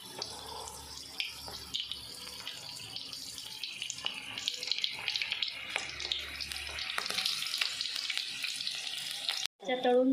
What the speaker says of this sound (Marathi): तेल चांगलं गरम करूया. गरम झालंय. आता आपण मिरच्या तळून घेऊयात.